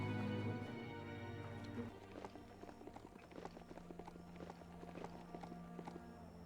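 In the video game Biomutant, a horse-like mount's hooves clip-clop in a quick, steady rhythm after a low rumbling sound fades, the footfalls close but quiet and playing alone.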